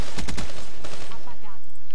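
Rapid bursts of automatic gunfire in Call of Duty Black Ops 3, loud and close, with a quick clustered volley at the start followed by scattered shots and echoing tails.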